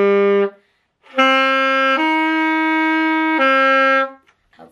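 A saxophone playing the melody of "Amazing Grace", a short first note then three sustained tones stepping in pitch, clear and close with a breathy reedy edge and no talking.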